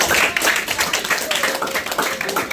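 A classroom audience claps for a student group during a lesson, giving dense, bright, moderately loud applause lasting a few seconds with no talk over it.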